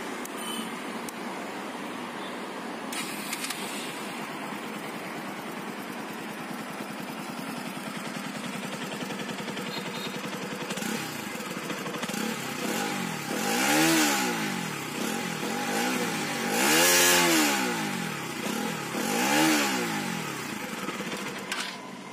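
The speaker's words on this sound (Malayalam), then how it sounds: "അപ്പോൾ ഇതാണ് NS സൗണ്ട്. നല്ല കേൾക്കാൻ രസമുള്ള സൗണ്ടാണ്." A Bajaj Pulsar NS200 motorcycle starts and settles into a steady idle, then is revved hard three times, each rise and fall loud and close.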